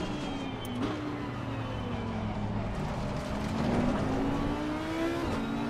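Race car engine in the Assetto Corsa Competizione sim racing game, a steady buzzing engine note with small pitch shifts as the car slides and gathers speed, loud and continuous with no talk.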